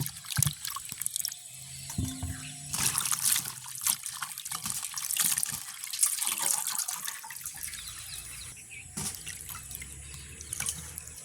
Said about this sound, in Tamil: நாங்கள் இதை இன்னொரு தண்ணியில் கழுவி எடுப்போம்.